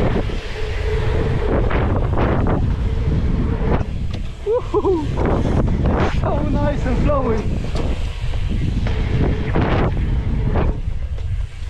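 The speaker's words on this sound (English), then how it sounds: "A bit of a headwind on the way back." A headwind rushes and buffets the microphone while mountain biking on a trail, producing a constant loud roar with low rumbling gusts throughout.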